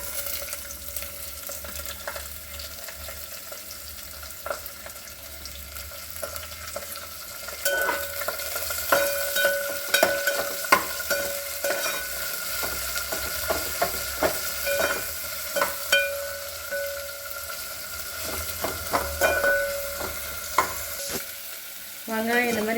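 Chopped onion stir-fried in a pan for Kumbakonam kadappa sizzles steadily, punctuated by frequent sharp clicks and scrapes of a spoon stirring, growing busier and louder after the first few seconds.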